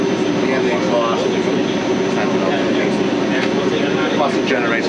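A boiler plant's generator engine runs in a steady, loud, unbroken drone, with a mechanical hum filling the whole stretch.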